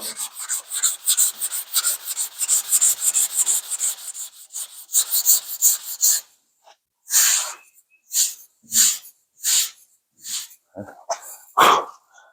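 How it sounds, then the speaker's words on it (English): 2K primer on a panel is sanded by hand in quick back-and-forth rasping strokes, a dense rhythmic scrub at first, then slower separate passes with short pauses, close and fairly loud, with no talking. "And just sand and you see them disappear."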